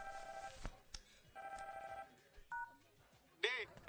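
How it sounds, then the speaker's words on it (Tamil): A telephone rings in a series of short electronic tone bursts, broken by brief pauses, ending with a louder warbling ring, while a voice speaks faintly in the background. "ஃபோன் அடிக்குது."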